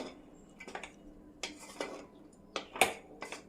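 A spoon stirs lemon rice in a pan, giving a handful of separate scraping clinks spaced a second or so apart, fairly quiet and close, with no talking.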